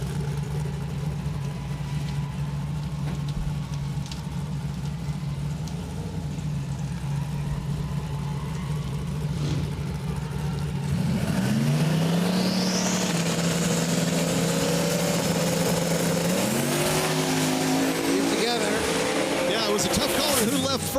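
A Chevy and a Mustang launch side by side in a small-tire drag race at Roadkill Nights, a steady engine drone giving way to a loud surge of rising revs as the cars accelerate away, with commentators talking throughout.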